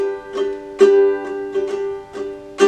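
A chord strummed repeatedly on a ukulele, close and clear, in an uneven down-and-up strumming rhythm with the chord ringing between strokes.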